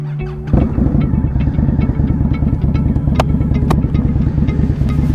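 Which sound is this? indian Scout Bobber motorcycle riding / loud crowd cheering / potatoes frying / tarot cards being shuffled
indian Scout Bobber motorcycle riding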